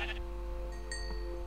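A sheep bleats in a Minecraft game, one short synthetic bleat over a steady low hum, with no voices.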